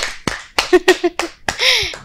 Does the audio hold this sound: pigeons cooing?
no